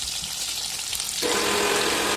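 Mustard fish curry gravy hits hot oil with a sudden loud sizzle partway through, a steady close frying hiss that continues to the end after a quieter stretch of faint kitchen noise.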